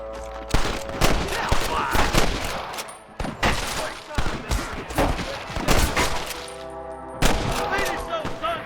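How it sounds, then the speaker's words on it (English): Gunfire in the Western video game Red Dead Redemption: repeated sharp shots and bursts in irregular clusters, loud and close, with game voices talking over parts of the exchange. "I can hear more gunshots."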